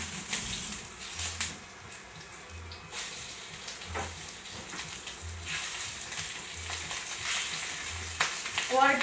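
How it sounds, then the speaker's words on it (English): Shrimp hitting a very hot pan of canola and olive oil crackle and sizzle steadily, with crisp pops and a low hum underneath, close and moderately quiet. "Put the shrimp in."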